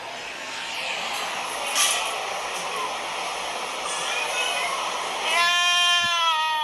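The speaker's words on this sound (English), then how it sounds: "Check out this goat, man." A goat at a county fair gives a single drawn-out wavering bleat near the end, close by amid a noisy crowd.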